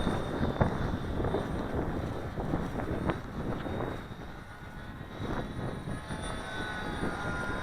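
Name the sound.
Alien Aircraft Blinker RC plane flying in strong wind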